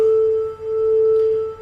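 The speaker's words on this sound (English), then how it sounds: "What you hear is called the beat frequency." Two pure sine tones at 440 and 441 Hz sound together, producing a steady hum that slowly swells and dips once per second, about two gentle beats across the short stretch, with no talk.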